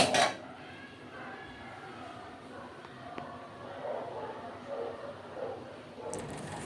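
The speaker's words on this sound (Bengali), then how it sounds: "এবার ভালো করে মিশিয়ে টিশিয়ে নিচ্ছি আমি।" Govindabhog rice pulao being stirred and mixed in a pot, with soft scraping and faint clinks of a utensil against the metal at a steady low level, plus a sharper clatter near the start.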